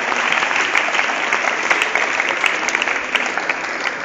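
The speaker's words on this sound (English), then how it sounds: "Please clap for them." An audience applauding pre-primary teachers at a school event, a dense, steady roomful of clapping that carries on without a break.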